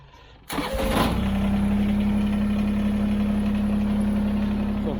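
A Kubota tractor engine fires up with a loud roar, then settles into a steady, close, continuous diesel idle with a constant low drone and no talk.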